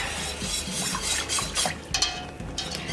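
A macaroni and cheese mixture is whisked briskly in a bowl, with quick repeated swishing and clinking strokes close by and no talking.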